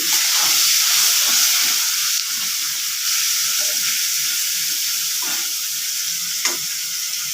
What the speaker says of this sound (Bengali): দিয়ে দিচ্ছি পেঁয়াজ আজকে আমি ভেজে রান্না করব